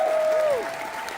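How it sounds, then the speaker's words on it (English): A brief burst of audience applause for a team at a television event, steady and dense clapping that fades slightly toward the end. "Can I just get a round of applause for my team that did this?"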